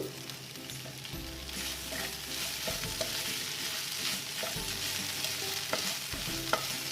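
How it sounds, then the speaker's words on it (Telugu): Snake gourd and tomatoes fry steadily in a pan, a continuous close sizzle punctuated by a spoon stirring and scraping the pan bottom, with no talking. "ఇందులోని కొంచెం 1 గరిట పొట్లకాయ వేస్తున్నాను"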